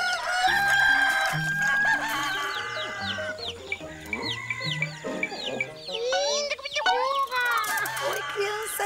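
Cartoon roosters crowing in a children's animated farm scene, with bright warbling calls rising over a bouncy music bed, interspersed with clucks and other farm animal cries, loud and continuous throughout.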